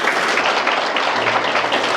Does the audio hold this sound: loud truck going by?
no